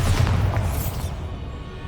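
A single heavy Bombarda explosion spell from Hogwarts Legacy, a loud close boom with deep rumble that rolls on and slowly fades, no voices over it.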